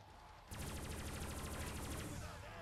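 A Death Machine minigun in Call of Duty zombies on the Kino der Toten map roars into a loud, continuous rapid-fire burst of densely packed shots that starts abruptly after a brief pause and runs to the end.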